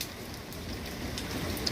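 Rain pours down steadily in a quiet, even hiss of drops striking surfaces, continuous and moderately distant with no voices.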